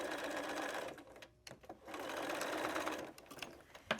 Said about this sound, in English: And now we're going to just stitch across this bottom.